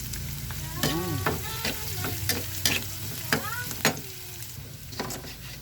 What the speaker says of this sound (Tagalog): Igisa muna natin siya. Ang dami niyang bawang at sibuyas